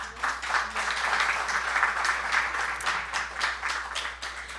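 Applause for an honoree at a book presentation, a dense, even round of clapping from a seated audience lasting the whole stretch at moderate, fairly distant level.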